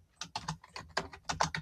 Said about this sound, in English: So go to the text tool and type your name.